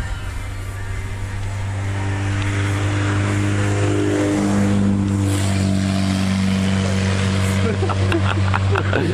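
A car engine fitted with a modified exhaust muffler hums with a loud, steady low drone from inside the vehicle, swelling slightly midway, while people talk faintly.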